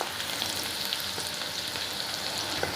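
Chopped garlic frying in hot oil in a pan gives a steady, bright sizzle with small crackles and pops. It is close and even throughout, and nobody speaks.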